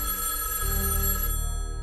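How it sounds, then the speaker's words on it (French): A home telephone bell ringing loudly and steadily, a continuous bright metallic ring heard alone with no voices. "Le téléphone a sonné."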